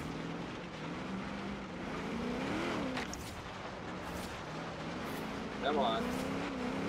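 A Holden FX car engine in Forza Horizon 3 drones and rises in pitch while climbing uphill, with someone talking over the steady game motor sound.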